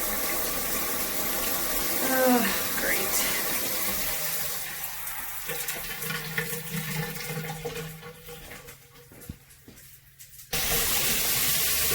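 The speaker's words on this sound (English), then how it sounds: "Now there's water spraying out everywhere." Water sprays and hisses loudly from a shower diverter valve on a stainless steel rain shower head with hose, a continuous rushing spray with a brief spoken exclamation over it, shifting and then cutting back in at full force.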